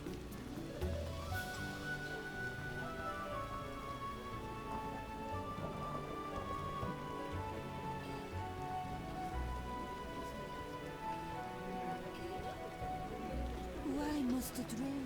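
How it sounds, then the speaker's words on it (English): Soft, steady rainfall patters on surfaces in a town quarter in The Witcher video game, faint and continuous throughout, with character voices speaking over it at times. "Why must it rain?"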